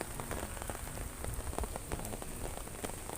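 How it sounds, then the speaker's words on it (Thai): Rain falling steadily on a surface, a dense patter of scattered drops, soft and continuous with no voices. "ฝนก็ตก"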